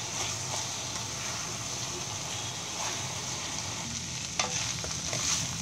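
Leftover parboiled basmati rice with capsicum being stirred in a hot pan, a steady scraping and shuffling over a constant soft sizzle, close by, with a sharper clink near the end.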